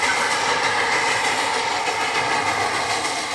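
Baby Sivok, a Darjeeling Himalayan Railway steam locomotive, climbs toward Tindharia station with a dense, steady roar of exhaust and running noise, loud and continuous throughout.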